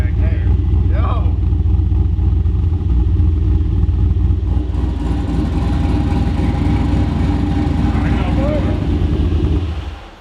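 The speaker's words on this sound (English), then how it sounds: "And now, engine sounds amazing. You can hear the cam back." Modified Volvo engine idling with a performance cam and stealthy exhaust, a loud, low, lumpy rumble held steady close by, with people talking over it before it cuts off at the end.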